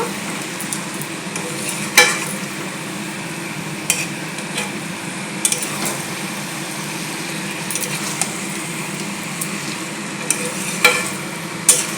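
Mutton frying with bay leaf in a pan, a loud, steady sizzle with occasional sharp scrapes and clinks of a spoon stirring the meat.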